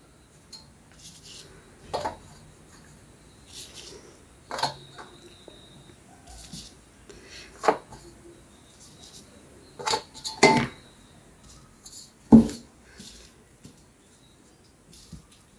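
A baking tray and dishes are handled in a kitchen while savory butter sablé biscuits are prepared, giving scattered metallic clanks, clinks and a few sharp knocks between quiet pauses, close and fairly soft.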